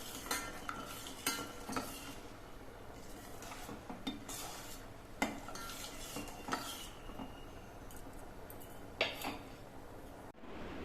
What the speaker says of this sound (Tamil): கட்டி தட்டாமல் நல்லா கிளறி விட்டுக்கிட்டே இருக்கணும்